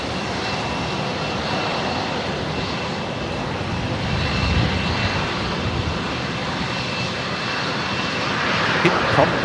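A jet airliner at Brisbane Airport roars loudly and steadily with a broad, rushing engine drone that swells slightly toward the end, heard amid outdoor plane-spotting ambience.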